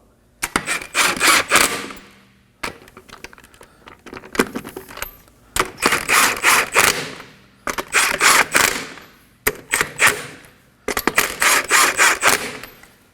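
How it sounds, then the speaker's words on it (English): Lug nuts are spun on by hand and snugged onto the wheel of a 2016-2020 Kia Sorento, making bursts of rapid metallic ratcheting and clattering separated by short pauses, loud and close. "Start your lug nuts by hand. And get them snug."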